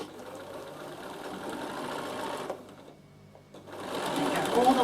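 A Bernina sewing machine top stitches fabric on an appliqué cushion, a steady mechanical whir that stops briefly, then starts again, close and continuous.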